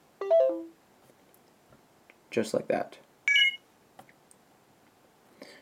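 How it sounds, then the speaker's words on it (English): An iPhone notification beep from a system event tweak sounds when the phone joins Wi-Fi: a short bright tonal chime stands alone before some clicks and a second higher beep, with someone talking afterwards. "if I go ahead and select the beep sound, when I do go and join a Wi-Fi, you'll be notified with the banner and the sound"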